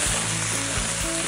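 Chicken pieces and garlic hitting a hot wok for stir-frying, a brief burst of loud, dense sizzling with a couple of soft thuds and scrapes.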